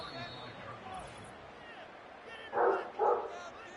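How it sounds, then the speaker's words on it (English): Brick, a big dog, gives two loud barks in the background close together near the end, after a stretch of muffled room noise and speech. "can enjoy the calming, soothing barks in the background from my big dog Brick"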